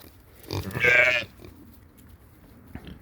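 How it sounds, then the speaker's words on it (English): Farm pigs and sheep: a loud bleat rises over soft grunting and shuffling livestock noises, with a brief sound near the end. "Here comes the pigs thinking they're gonna get some food."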